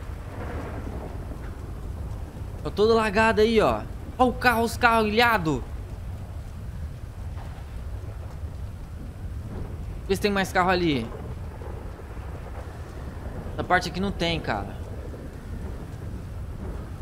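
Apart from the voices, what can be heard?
heavy rain and thunder in GTA 5 video game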